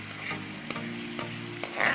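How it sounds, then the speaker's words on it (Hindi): Garlic and ginger tempering sizzles in a spoonful of hot oil, a steady close crackling fry with a few sharp pops and stirring clicks. "लहसुन अदरक का तड़का बना रही हूँ।"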